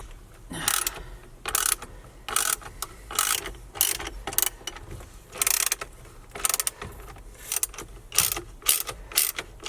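A star-shaped (Torx-style) socket ratchet works loose a car interior part, its pawl clicking in quick, loud bursts of rapid ratcheting separated by short pauses, close up and with no talk.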